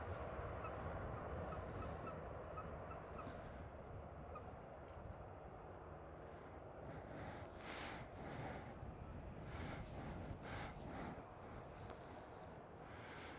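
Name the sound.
birds on the grass near Schiphol airport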